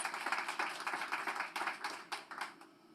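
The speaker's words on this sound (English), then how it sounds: "let's give him another round of applause." Light applause from a small audience at a business pitch competition, a modest patter of hands clapping in uneven bursts that fades out, faint and somewhat distant.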